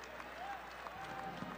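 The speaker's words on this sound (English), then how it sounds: "the Saluki fans giving their team some applause with an 8-point lead as we head to the half" Basketball fans applaud at half time of a college game, a brief wash of crowd clapping heard at moderate distance with an announcer talking over it.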